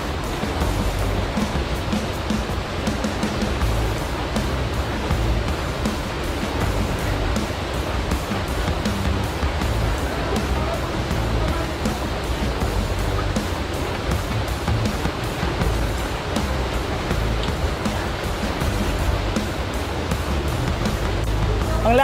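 Rushing water roars steadily at Haduan Falls in Pampanga, a loud, unbroken broadband wash that stays close and constant with no voices.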